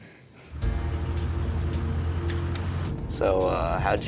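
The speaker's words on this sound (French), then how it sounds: "Comment t'as fait venir une voiture jusqu'ici?" A car engine idles steadily at close range with a low, even rumble, and a voice speaks briefly near the end.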